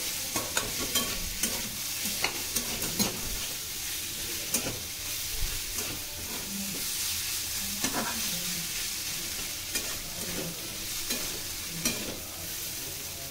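Potato and chickpeas are stirred in a frying pan for a dry aloo chana dish, with a steady sizzle underneath and spoon scrapes landing every second or so at close range.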